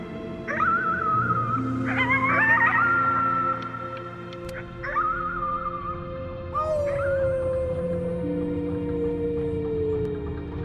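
A boy howls at the moon in Before Your Eyes, drawn-out wavering howls rising and falling several times over a soft musical backdrop.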